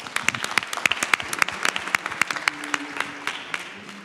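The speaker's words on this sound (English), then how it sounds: "Big round of applause." A conference audience at a startup innovation contest final applauds, scattered individual claps standing out crisply over a broader patter that fades toward the end, with a faint voice partway through.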